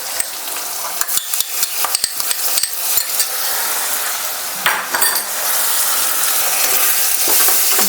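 Tomato paste sizzles with corn in a pan, a steady frying hiss broken by a run of sharp spoon or spatula clicks against the pan as it is stirred.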